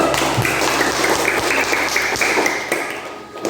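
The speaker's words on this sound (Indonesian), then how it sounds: "Ya, tepuk tangan dulu." Students in a classroom lesson clap their hands together, a loud, fairly dense burst of applause with some tapping and thuds that fades near the end.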